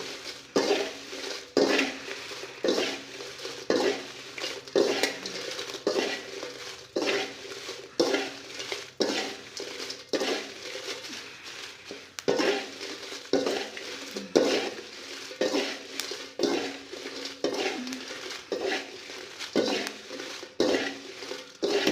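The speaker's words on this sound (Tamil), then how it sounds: "நான் 1 கிலோ மிளகாயும் இப்படி தான் வறுத்து எடுக்க போகிறேன்" Dry red chillies roasting in a pan with a steady run of stirring scrapes and clinks, repeating about every second, close and fairly loud, with no voices.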